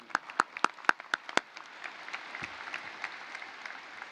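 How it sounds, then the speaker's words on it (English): At a Colony High School graduation ceremony, a few sharp, close hand claps ring out in a quick rhythm before a broader crowd applause swells behind them and carries on as a steady, moderately loud patter in a large hall. "And let's give one final round of applause to our LISD administration."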